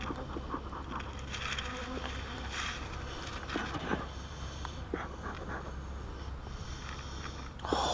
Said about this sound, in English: I've never had that many bees.